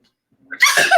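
A single sharp sneeze bursts out after a brief quiet intake of breath, close and loud.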